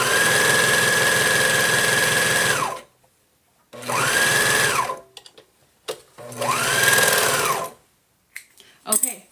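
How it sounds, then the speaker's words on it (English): A serger overlocks the edge of a fabric Halloween bag in three loud, close whirring bursts separated by short pauses, with faint handling noises in the gaps. "I have serged around the whole edge of this."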